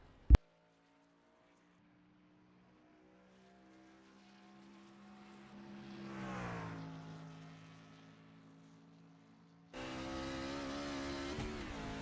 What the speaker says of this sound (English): number 3, Kevin, had a little bit of a rough time on that qualifying lap, but he's going to give it another go here